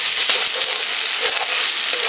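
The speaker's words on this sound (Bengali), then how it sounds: "নাড়তে থাকতে হবে ভালো করে এবার" Spiced onion-garlic masala fries in a pan under steady stirring, a dense close sizzle with a few scraping strokes, no voices.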